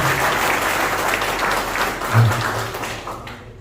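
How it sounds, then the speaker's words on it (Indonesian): Audience at a big seminar in Sukabumi breaks into loud, sustained applause, a thick crowd of claps with a faint voice underneath, easing off at the very end. "Tepuk tangan buat beliau."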